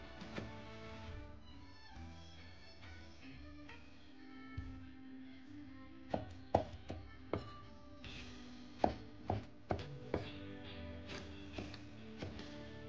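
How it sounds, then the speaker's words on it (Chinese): A knife cutting eggplant into even strips on a board, starting with soft slicing and building into a string of sharp, evenly spaced chops, close and fairly quiet, no talking. "再改刀切成粗细均匀的条"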